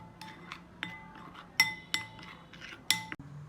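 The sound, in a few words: frying pan placed on stove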